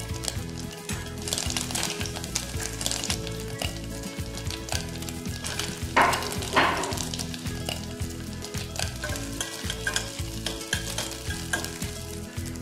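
Pumpkin for a locro sizzles steadily in hot oil, a continuous close frying crackle with a brief louder burst of spattering partway through.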